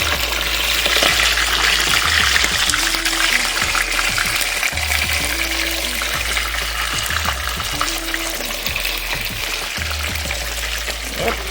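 Fish frying in a pan for Ghanaian banku and fish, a dense, steady hiss and crackle of hot oil that carries on loud and close with no break.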